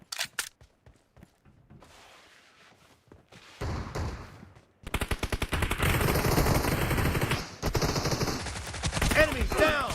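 PUBG Mobile gunfire starts as a few sharp single shots and spaced reports, then breaks into dense, loud rapid automatic bursts that go on to the end. A brief voice comes in partway through.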